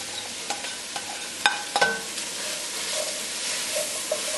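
Onion, carrot and celery mirepoix sautéing in oil, a soft steady sizzle with a few sharp utensil clicks and scrapes as the vegetables are tossed, no voices.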